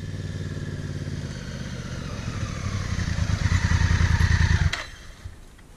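Off-road motorcycle climbing a steep dirt slope, engine droning close and steadily louder under load before cutting off abruptly near the end with a clack, leaving quiet ambience.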